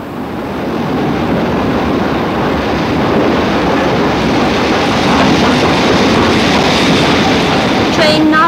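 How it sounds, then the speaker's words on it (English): A train rumbles steadily nearby at a York station platform with a broad, continuous roar and faint rhythmic clatter, building slightly louder toward the end as it pulls in. "Train now arriving at platform 14 is the 9:50 for Grantham and King's Cross."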